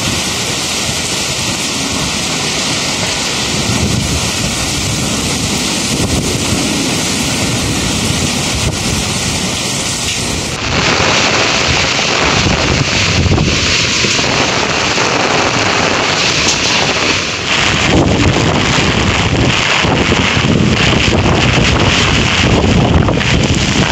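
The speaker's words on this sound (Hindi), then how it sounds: "अभी देख सकते हो आप लोग कितना ज़ोर से हवा चल रही है" Strong wind from Cyclone Nisarga in Lonavala roars and buffets the microphone continuously, a loud broadband rush with gusting surges and no speech.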